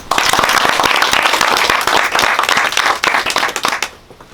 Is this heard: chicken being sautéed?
no